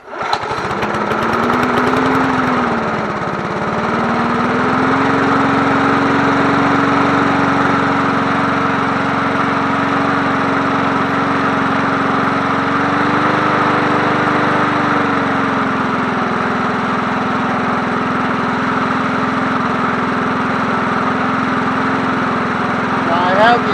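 A 1980s John Deere push mower engine is cranked, catches after a couple of seconds and settles into a loud, steady running drone, its pitch wavering slightly now and then.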